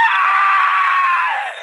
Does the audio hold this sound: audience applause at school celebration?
no